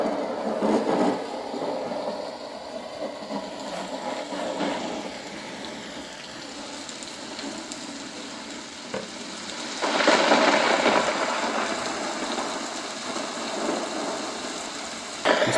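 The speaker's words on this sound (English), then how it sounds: "So there's the thunder." A portable nature sound machine plays a thunderstorm track, a steady hiss of rain with low rumbling swells and a louder roll of thunder partway through, continuous and fairly close, with no talking.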